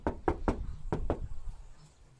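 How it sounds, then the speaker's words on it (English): Six quick knuckle knocks land on a car door panel that has no sound dampening fitted. They come in two close bursts, dull and near, then quiet room tone follows. "just a quick knock test"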